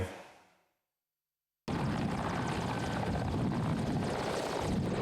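A military helicopter's rotor and engine roar steadily during pilot training, loud and close, starting abruptly after a brief moment of silence.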